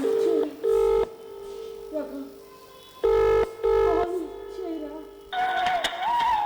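Phone call to an unanswered subscriber: repeated loud ringback tone bursts in a steady on-off rhythm, separated by a short voice recording and ending in a higher tone.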